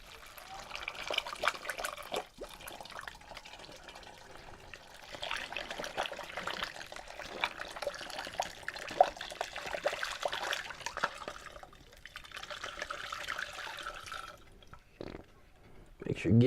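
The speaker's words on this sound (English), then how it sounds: "We're going to take our water from our kettle and help it into the bottle." Hot water is poured from a kettle through a funnel into a bottle holding ginger for homemade ginger beer, a soft uneven trickle and splash in bursts, with a voice talking throughout.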